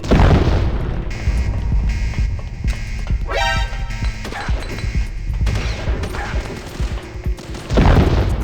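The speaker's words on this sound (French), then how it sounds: "ça leur fait rien, les grenades stun" Stun grenades burst in Metal Gear Solid: The Twin Snakes, a loud boom followed by crackling, rattling gunfire-like bangs and a bright ringing burst partway through, continuing in a dense jumble.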